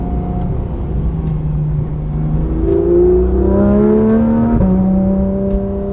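Porsche GT3 RS driving past pedestrians, its engine loud and close with a rising, shifting tone that swells toward the middle and falls back, no talk.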